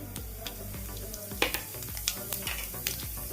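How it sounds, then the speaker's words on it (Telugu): Cumin seeds go into hot oil in a kadai for a drumstick and tomato curry and crackle loudly up close, with spoon scrapes and quick bursts of spitting. "ఆయిల్ హీట్ ఎక్కింది ఇప్పుడు మనం జీలకర్ర వేసుకుందాం"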